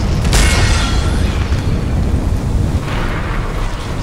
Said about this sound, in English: Fire another grenade down there.